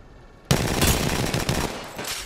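Dense automatic gunfire erupts suddenly in a video game firefight, a loud continuous burst of overlapping shots rattling on for nearly two seconds after a brief quiet lead-in.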